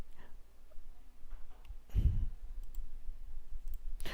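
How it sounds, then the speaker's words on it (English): A computer mouse clicks a few times, sharp and close, while someone works through accounting software, with a stronger thump of handling in the middle over a quiet background. "When you click this add role membership"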